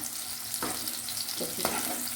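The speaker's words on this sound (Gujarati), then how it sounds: "હવે આપણે પનીરને પણ આવી જ રીતના ઘીમાં રોસ્ટ કરી લઈશું." Paneer roasting in ghee in a pan gives a soft, continuous sizzle, with a few brief scraping stirs breaking through close up.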